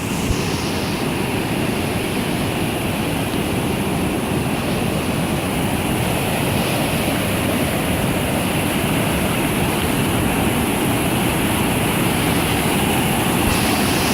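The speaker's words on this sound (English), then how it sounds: "One of the sections of it that has rapids on it." River rapids near a trail bridge at Kennedy Meadows, California, roar as a loud, unbroken broadband rush of fast-moving water, steady and close throughout with no voices.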